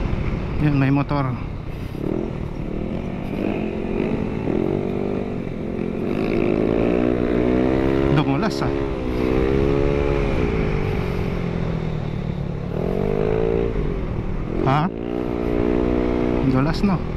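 Racing scooter engines whine and rev in rising and falling sweeps, overlapping one another on a wet race track, with a voice speaking over the noise.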